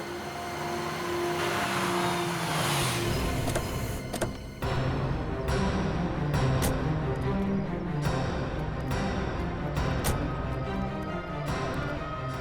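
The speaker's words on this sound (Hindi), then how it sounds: "बस आप यहीं गाड़ी रोक दीजिए।" A car drives and comes to a stop in a Hindi crime drama scene, with a steady engine and road noise, some ticking clicks and dramatic music layered over the top.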